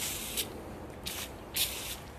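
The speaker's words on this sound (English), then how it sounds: "I just sprayed this side with the Easy Off brand" Easy Off oven cleaner sprays from an aerosol can onto wood furniture in three short hissing bursts, close and fairly quiet, with pauses between each spray.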